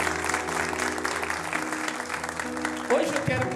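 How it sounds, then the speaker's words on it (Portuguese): Congregation applauding during a Sunday church service, steady dense clapping throughout with musical tones sustained underneath and a brief voice near the end. "Quem pode aplaudir a Jesus?"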